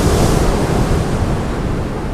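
Heavy sea swell breaks along the Holderness coast in a continuous loud roar of surf, mixed with buffeting wind noise on the microphone, close and unbroken with no voices.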